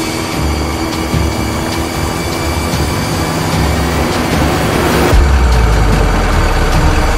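A locomotive runs with a loud, continuous rumble and the rhythmic rattle of rolling wheels, which deepens and grows heavier near the end with no voices over it.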